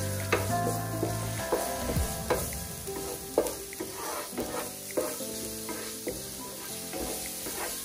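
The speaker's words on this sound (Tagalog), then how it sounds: "ngayon naman mag-isa tayo ng bawang" Garlic sautés in a pan with a steady close sizzle while a utensil repeatedly scrapes and taps the metal in an irregular stirring rhythm; no one speaks.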